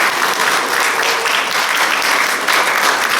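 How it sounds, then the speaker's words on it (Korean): A church congregation at a Parents' Sunday service applauds its youth group with dense, steady clapping that fills the whole stretch at an even level. "다시 한번 우리 청년들 격려의 박수 한번 해주실까요?"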